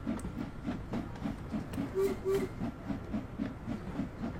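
A train in the game Train Sim World rolls over switching points, giving a rhythmic, evenly spaced clickety-clack of wheels over a soft rumble, with a brief faint squeal in the middle.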